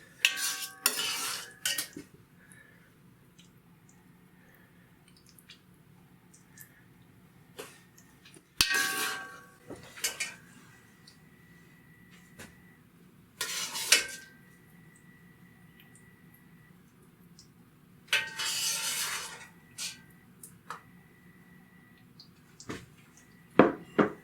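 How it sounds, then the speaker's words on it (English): A metal ladle scraping and clinking in a pot while caramelized pork and vegetables are spooned onto rice, heard as intermittent close scrapes and clatters separated by quiet pauses. "just start ladling this on to the rice"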